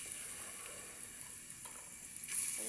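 Oil sizzles steadily in a pan with onion and garlic frying, at the start of cooking a goat meat dish; an even, faint hiss runs throughout with a slightly louder burst near the end, and no one speaks.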